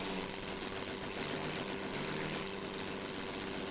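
A Nieuport 28 biplane engine idles in IL-2 1946 with its throttle pulled back, giving a faint, steady, buzzing hum with a constant tonal whine.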